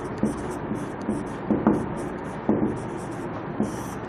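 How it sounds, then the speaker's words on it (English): Pen or marker strokes drawing the chemical structure of histidine by hand, a series of short scratchy taps and scribbles at an uneven rhythm, close and fairly quiet against a faint background hiss. "So I am going to draw the structure of histidine first."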